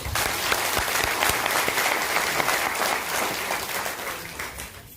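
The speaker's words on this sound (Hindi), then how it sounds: "जबरदस्त ताली बजाइए" People at a training session give a strong round of applause, a dense, lively clatter of many hands that stays loud and then tapers slightly toward the end, with no talking over it.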